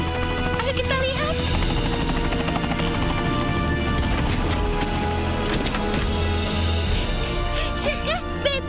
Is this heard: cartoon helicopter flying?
yes